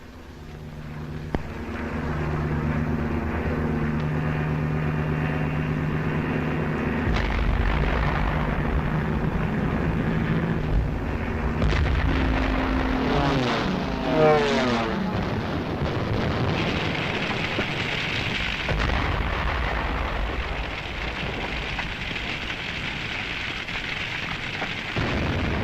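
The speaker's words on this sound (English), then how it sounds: "This was Rotterdam, bombed after the Dutch forces had surrendered." Newsreel footage of the wartime aerial bombing of Rotterdam brings a steady, dense roar of aircraft engines and blasts. Rumbling explosions and crackling swells run through about twenty-five seconds, loud and continuous, with no voices.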